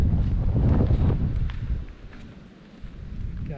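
Wind gusting on Anafi island after heavy rain, a loud, rumbling buffet of air against the microphone that eases off and then builds again.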